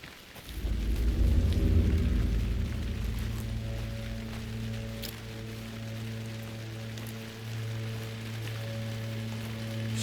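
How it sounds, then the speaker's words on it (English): Heavy rain in the video game Alan Wake 2 swells in quickly and then holds as a steady, dense patter over a low rumbling hum, continuous and moderately loud with no talking. "Starting to rain heavier."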